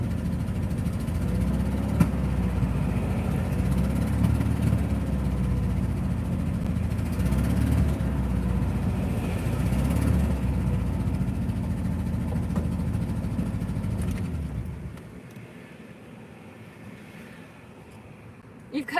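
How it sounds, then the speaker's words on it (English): A car engine idles in neutral with a low, even rumble for about fifteen seconds before dropping away to near quiet. It is fairly loud and close. "Alright, we're in neutral. I just want to hear it rev up."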